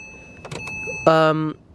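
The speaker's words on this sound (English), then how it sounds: "this car obviously has automatic windows" A Porsche Boxster S power window motor whirs briefly and steadily up close for about half a second, preceded by a few soft clicks and small cabin noises.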